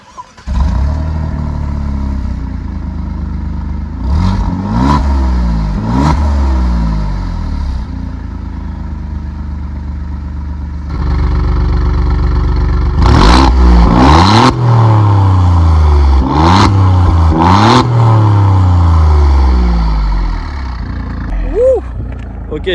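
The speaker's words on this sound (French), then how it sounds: "Donc là on va démarrer le véhicule." An Alfa Romeo Giulia Quadrifoglio with a 2.9-litre V6 starts with a sharp crank and catch, settles into a deep idle, then gives a series of loud, rising and falling revs close by, with occasional voices.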